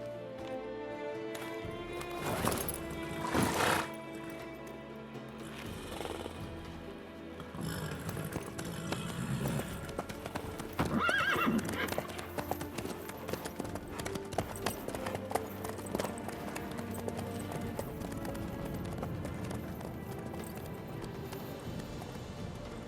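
A horse in The Witcher 3 video game clip-clops at a steady trot for over twenty seconds under layered orchestral music and ambient sound, with an occasional louder burst but no clear neigh.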